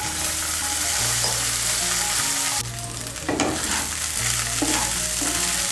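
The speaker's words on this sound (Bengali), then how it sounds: "ঘিটা গলে গেলে এর মধ্যে জল ঝরানো চিড়েগুলো ভেজে নেব।" Flattened rice (chira) frying in melted ghee in a pan for chira khichuri, a steady close sizzle with a low hum underneath and occasional spatula scrapes and stirs, no talking.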